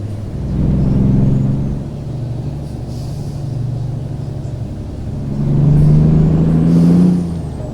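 Truck air brakes in American Truck Simulator hiss and release over a deep, loud engine rumble that swells twice.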